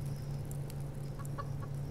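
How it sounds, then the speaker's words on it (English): Chickens in the survival video game Subsistence cluck close by in a few short bursts over a constant low hum, with no voices. "chickens"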